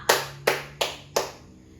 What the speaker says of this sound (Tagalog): bigyan siya ng palakpak.